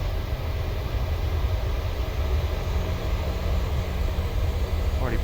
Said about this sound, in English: Okay, rolling takeoff